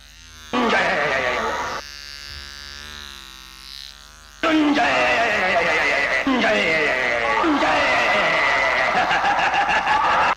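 A horse gives a loud, drawn-out neigh with a whinny that trails off, then a second burst of whinnying and snorting carries on steadily to the end, with no voices over it.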